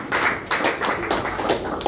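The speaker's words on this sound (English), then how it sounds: "A round of applause for you." Dense, steady applause fills a general meeting hall as attendees clap for the nomination committee of a JCI Ibadan Elite annual general meeting. The clapping is fairly close and continuous, with no talk over it.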